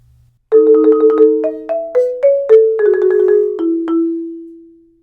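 A mallet instrument plays a solo passage of quick repeated and alternating notes, bright and ringing, ending on a long fading tone.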